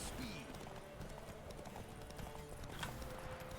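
Horse hooves clip-clop steadily on a path in The Witcher 3, a dense game soundscape with a brief high whinny near the start, with speech present at points.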